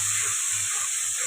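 Water is poured into a spice paste frying in oil with a little sugar, giving a loud, steady steam hiss that fills the whole moment over a faint low hum.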